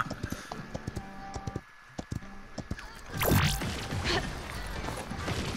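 Horse hooves clip-clop in the Paladins video game, a rapid rhythmic run of sharp hoof knocks followed by a loud crashing impact and a rising whoosh, mixed with other game sounds.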